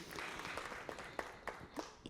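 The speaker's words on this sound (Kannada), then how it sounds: "ಅವ್ರಿಗೂ ಚಪ್ಪಾಳೆ ಬರಬೇಕು." A studio audience claps for chorus singers on a singing show, light, scattered applause fairly far off with a few sharper individual claps near the end.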